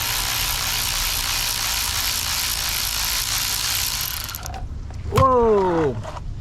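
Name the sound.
ratchet loosening a motorcycle oil drain bolt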